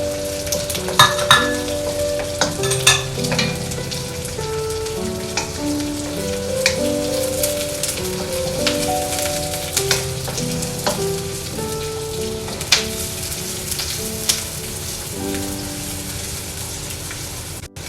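Onions frying hard in a pan over high flame for chicken chili, a steady loud sizzle with repeated clinks and scrapes of stirring and pan knocks throughout, no voices.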